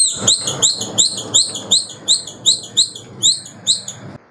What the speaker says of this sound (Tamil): அதுதான் இந்த குருவி விசில்.